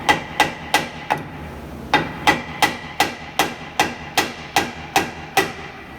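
A hammer taps on the 4R70 transmission of a 2005 Ford F-150 4x4, fifteen sharp metallic strikes in a steady rhythm, close and loud, with no talking.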